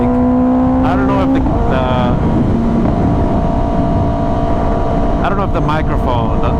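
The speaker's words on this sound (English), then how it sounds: "Man, this bike sounds so freaking sweet." A 2025 Kawasaki ZX10R motorcycle engine drones loudly and steadily, with rising rev sweeps near the start and again toward the end, while a rider talks over it.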